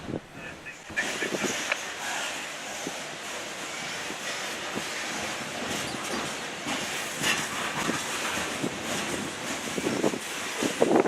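Norfolk Southern coal train with Southern 8099 rolling through Columbus, a continuous steady rumble of wagons with rail clatter and wind buffeting the microphone.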